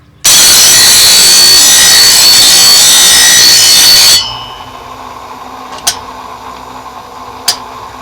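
A saw cuts through wood in one loud, continuous rasping burst lasting about four seconds, then stops, leaving two sharp knocks in near silence.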